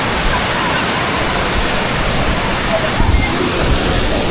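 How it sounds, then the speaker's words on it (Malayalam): Roaring waterfall at Kannur pours continuously, a dense, loud broadband rush of falling water filling the whole stretch, with a faint voice or two murmuring under it. "ഫുള്ള് വെള്ളം കണ്ടോ, ഇങ്ങനെ ഒലിച്ചത് അതുവഴി അങ്ങനെ പോകും."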